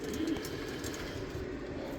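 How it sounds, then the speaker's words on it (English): Pigeon cooing in a loft housing a young bird team, a low steady murmuring coo that carries on for the whole stretch, close and moderately loud with no talking over it. "This is Crank's girlfriend, and she was actually the last bird to lay eggs"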